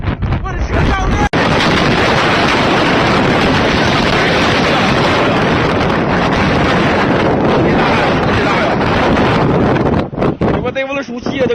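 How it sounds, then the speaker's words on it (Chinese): Gale-force wind roars across a microphone during a city fire in China, a loud sustained buffeting rush that fills nearly the whole stretch, with voices briefly heard at the start and end. "8级大风，看见了吗？"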